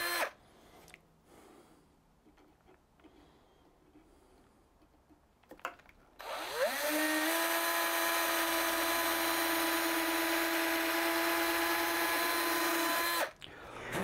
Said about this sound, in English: tap these two starter holes on the mark, one, two, and then drill through